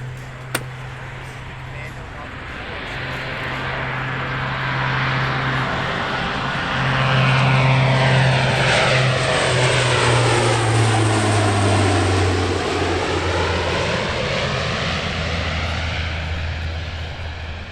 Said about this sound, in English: The US Air Force MC-130J Commando 2 paired with the US Marine Corps